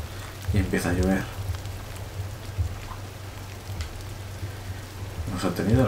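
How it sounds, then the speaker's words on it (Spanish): Steady rain hisses across the whole stretch in the video game Gris on Nintendo Switch, with a low game hum underneath and a few spoken phrases near the start and end. "Y empieza a llover."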